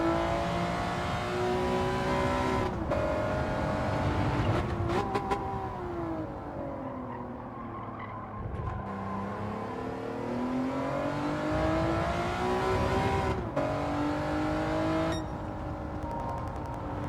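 A race car in the video game Gran Turismo 7 runs a hairpin course for the National A9 licence test. The engine whines with rising and falling pitch through repeated gear changes and braking into corners, with a steady tone and no talk.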